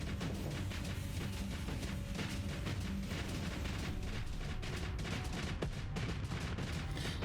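Spaceship weapons fire in the space combat game Starsector as a brawler-class ship shoots an Afflictor from beyond its point defense range, a dense, continuous barrage of rumbling booms and crackling shots with no talk.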